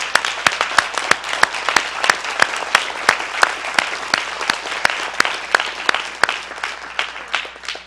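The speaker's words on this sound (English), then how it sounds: "Give Bunky a hand clap." A church congregation claps in a crisp, rhythmic unison beat, sharp individual claps evenly spaced at a brisk tempo, close and fairly loud throughout.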